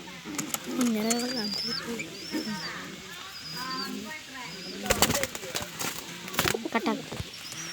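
Iron-grey pigeons coo softly in low, repeated calls. Scattered clicks and rustles, with a person talking in between, sit over a quiet background.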